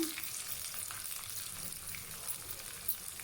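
Curry leaves and chopped dried red chillies, along with peeled garlic, fry in hot oil for a bottle gourd dish, giving a steady, close crackling sizzle with occasional stirring clicks and no talk.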